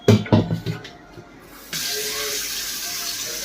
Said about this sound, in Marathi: आता आता पाणी भरा